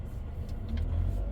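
Proton X70 driving during an autonomous emergency braking test, a low steady engine and road rumble heard from inside the cabin, rising slightly toward the end, with no speech.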